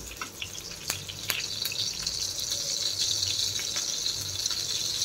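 Tomato dropped into a hot frying pan sets off a steady, loud sizzle that builds and holds, a bright hiss with a few crackling pops near the start.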